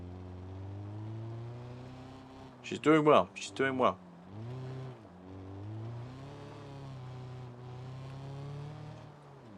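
A car engine in the video game BeamNG hums and revs with steady, shifting tones throughout, while a person speaks briefly over it partway through.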